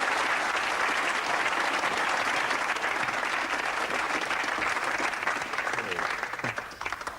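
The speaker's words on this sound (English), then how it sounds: "Give a big round of applause for them" Applause fills the room at a magic show by David Berglas, a dense, sustained crowd clapping that holds steady and then begins to thin out toward the end.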